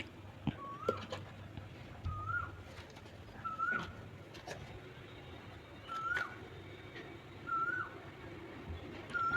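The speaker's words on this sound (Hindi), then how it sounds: "देख रहे हो पीछे कोयल बोल रहे हैं, कितने प्यारे प्यारे।" Asian koels call on a morning outdoors, with a clear repeated two-part note every second or two at moderate distance against faint background noise.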